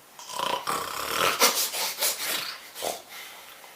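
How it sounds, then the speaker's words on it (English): A sleeping sloth lets out a loud snore: a series of rough, rasping breaths that swell and fade in uneven bursts, heard up close with no talk. "He let out a loud snore."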